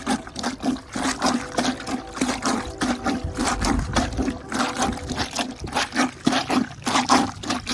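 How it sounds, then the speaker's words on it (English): Clothes are rinsed by hand in water, giving a continuous sloshing, splashing rush with a pulsing, repeated rhythm, close and loud throughout. "Now I'm just gonna rinse my clothes down like this and kind of repeat the process."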